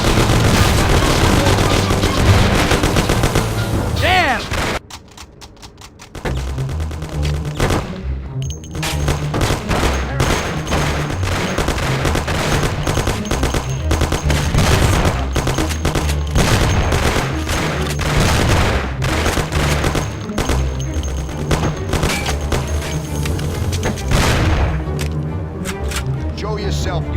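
Heavy gunfire in a shootout in the video game Mafia: City of Lost Heaven, rapid loud bursts and single shots nearly continuous across the exchange, briefly pausing, with shouted voices amid the fire.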